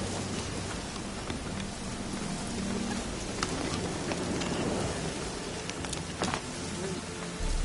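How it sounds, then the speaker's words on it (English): Steady rain hissing across the open world of The Witcher 3, a dense continuous wash with a few faint drip-like ticks and low background rumble, holding an even level throughout. "Looks like rain."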